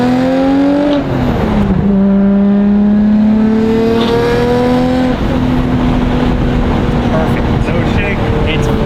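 A car on freshly fitted new wheels drives along with its engine loud and close, pitch rising through the gears with clear shifts between pulls, a continuous rolling roar beneath.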